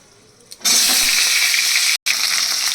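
Drumstick pieces and potato drop into hot mustard-oil tempering with nigella seeds, bursting into a loud, close, continuous sizzle that holds steady with one brief dropout.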